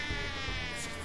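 Bees from a beehive in Ultimate Chicken Horse buzz in a dense, continuous, insect-like drone, close and steady throughout the short moment.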